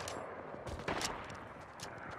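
Guns firing in Fortnite produce faint, scattered shots and short bursts at a distance, quiet and separated by gaps.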